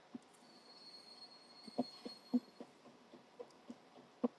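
A locomotive in a Minecraft train game runs at a faint, quiet level, giving a steady rumble with a thin squeal and a series of evenly spaced wheel clicks.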